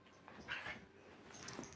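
A dog whimpers softly in a room during an at-home backbend fitness session, faint whines rising in short bursts over low background noise.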